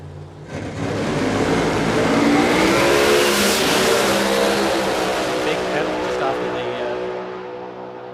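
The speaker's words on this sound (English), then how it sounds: "Neil Murphy for Royal Precision Lubricants in the Camaro." At a Willowbank Raceway drag meet, an Outlaws-class Camaro drag car launches and screams down the track, its roaring engine building fast and holding loud for several seconds before fading as it pulls away.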